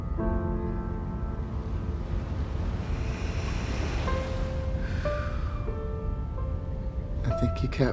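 Ocean waves wash over a beach in a steady broadband rush beneath gentle piano notes that play throughout.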